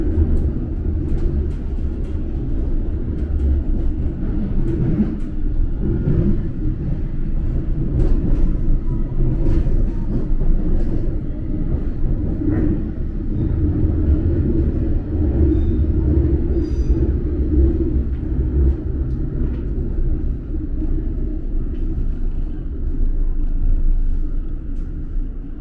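London Underground train runs between Whitechapel and Chancery Lane, a loud, steady low rumble and rattle heard from inside the carriage with occasional squeals and clanks.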